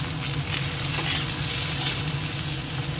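Ridge gourd and potato frying in oil in a pan, a steady close sizzle with faint stirring throughout, no voices.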